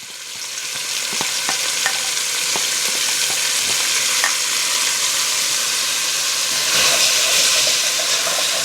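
Steady, loud sizzle of two onions hitting a hot pan with seared beef for a Guinness beef stew, a dense continuous hiss with occasional stirring scrapes, no voices.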